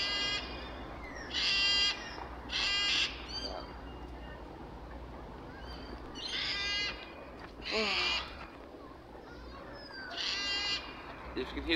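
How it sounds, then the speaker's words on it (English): A cockatoo calling outdoors: harsh, raspy screeches repeated in bursts of about a second each, loud and fairly close, over a quiet background hum. "If you can hear the bird, that's a cockatoo."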